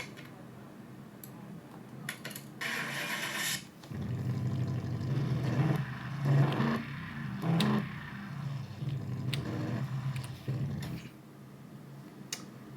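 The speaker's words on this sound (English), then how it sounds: "I'm gonna start the van up." A van engine in Car Mechanic Simulator starts with a brief cranking whir, then settles into a steady idle with a few rising revs, all moderately loud and with no talking.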